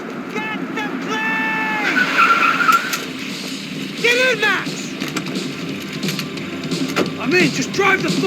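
Screeching tire skids and roaring engine of a getaway car in Max Payne 3, sliding in long wavering squeals over a busy mix of game noise, with voices shouting over the chase.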